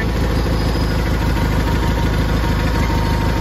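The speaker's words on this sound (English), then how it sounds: "It's a pretty good tractor." A 1985 John Deere 318 lawn tractor with power steering runs with a steady, loud engine drone and a rapid mechanical knocking pulse, heard close up and alone.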